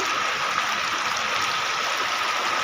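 Floodwater rushes steadily into a house in a constant, broadband flowing wash with no pauses, heard alone.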